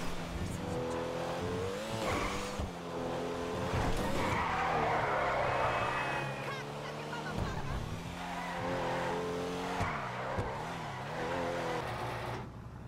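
A Pfister Comet S2 sports car driven in a video game, its engine revving and droning while the tires squeal and skid through repeated slides, loud and close throughout.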